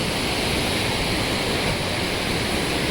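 A swollen river rushes at full force past a walkway near a hanging bridge and landslide-hit ground on the way to West Sikkim, a dense, loud, unbroken roar of water with no variation and no voices.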